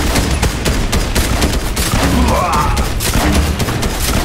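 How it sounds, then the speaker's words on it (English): Rapid gunfire bursts in a Fortnite battle, loud dense shots and booms packed together over game music and effects. "He's firing."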